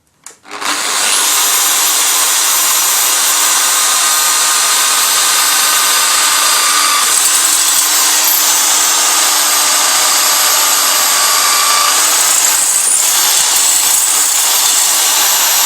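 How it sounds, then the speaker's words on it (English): A steady, high-pitched power drill whines continuously while drilling through aluminum after a brief start, loud and close, with no talking. "now we're gonna drill the holes on the bigger part"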